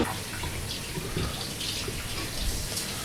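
Water runs from a tap while hands are rinsed, a soft steady splashing stream close by with no talking.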